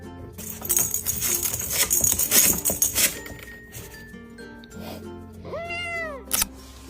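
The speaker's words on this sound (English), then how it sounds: "Running everywhere with continuous confused meows." A kitten gives a clear rising-and-falling meow near the end, preceded by busy clattering, clinking and rustling of kittens scampering about.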